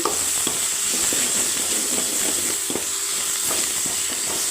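Onion, tomato and coriander leaves sautéing in oil for a cauliflower egg curry give a steady close sizzle, with scraping stirs and soft clicks of a spatula against the pan throughout.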